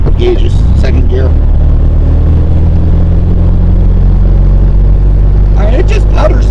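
A 1972 VW Super Beetle's air-cooled engine putters steadily in second gear, a constant low rumble running throughout with brief bursts of talk at the start and end.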